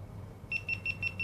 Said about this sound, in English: There we go, we get our little beeps.